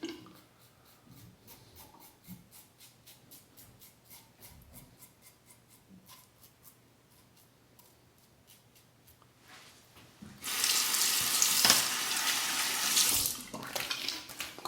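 A tap runs steadily and loudly for a quick rinse while lathering for a shave. Before it comes on there is a long stretch of soft, rapid brush swishing and dabbing nearby.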